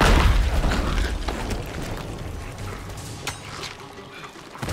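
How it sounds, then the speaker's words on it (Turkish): A loud, close blast from a ship-borne explosive in the pirate game Sea of Thieves hits at the start, then a rumbling, crackling tail of debris and scattered bursts fades over several seconds. "Şu şeyi patlatacağız."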